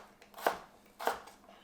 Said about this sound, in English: So just cut it into little pieces like this